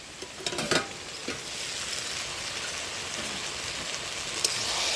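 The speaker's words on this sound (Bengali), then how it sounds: "বাইরে এত বৃষ্টি হচ্ছে" Heavy rain pours down in a steady, dense hiss that never lets up, with a few faint knocks and clicks nearby.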